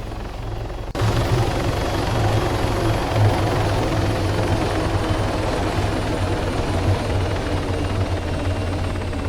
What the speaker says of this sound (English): so that's the helicopter we're flying.